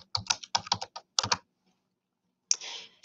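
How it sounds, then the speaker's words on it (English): Quick clicky keystrokes on a computer keyboard as a web address is typed into an online application form, in several short close bursts, then a pause and a soft hiss. "I'll type the address in the box here."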